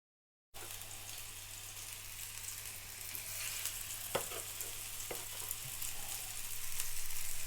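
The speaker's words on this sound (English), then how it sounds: "Can start frying." Continuous hissing sizzle of meatballs frying in hot oil, building slightly louder toward the end, with a few soft clinks.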